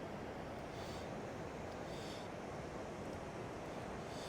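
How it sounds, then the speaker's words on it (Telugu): Water waves wash steadily beside an outdoor eating spot by the shore, a constant broad surf rush mixed with wind buffeting the microphone, fairly faint and unbroken, with no voices. "ఈ పక్కన ఈ వాటర్ సౌండ్"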